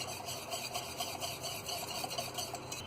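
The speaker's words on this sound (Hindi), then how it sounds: "अब यहाँ थोड़ा सा दूध और डालेंगे हम। अच्छी तरह मिक्स करेंगे।" Milk being stirred into a chocolate burfi mixture in a pan, a steady soft scraping and swishing that repeats in a loose rhythm, close and moderately quiet, with no voices.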